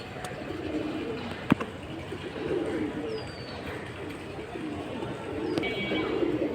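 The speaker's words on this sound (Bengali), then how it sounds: "জোড়া রিজনেবল প্রাইজের সিলভার কবুতর" Silver pigeons coo in soft, low, repeated throaty rolls, close by at a pigeon sale, with a sharp click partway through and a faint background murmur.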